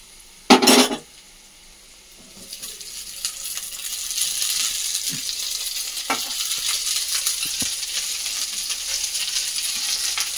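Cooked rice tipped into a pan of hot oil and masala for egg fried rice, with a sharp clatter at first, then a steady, growing sizzle and frying hiss broken by occasional stirring scrapes, close by and with no talking.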